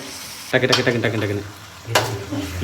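Onions frying until golden in a pan for a bachelor-style chicken dish, a steady soft sizzle close by, partly under someone speaking over it.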